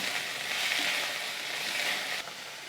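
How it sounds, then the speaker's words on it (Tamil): Fresh coriander and mint leaves sautéing in a hot pan for a green chutney, a steady close sizzle and crackle running throughout with no voices. "மல்லித்தழையும் புதினாவையும் நல்லா நம்ம வதக்கி விட்டுக்கலாம்."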